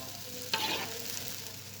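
Smoked fish being stirred with spices in a frying pan, a steady low sizzle with one sharp scrape of the utensil partway through, close and alone without talk.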